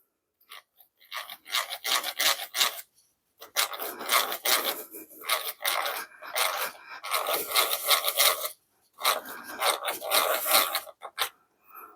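A hand-cranked drill boring into wood gives bursts of dry scraping and rasping that grind on in uneven stretches separated by short pauses, close up and fairly loud with no voices.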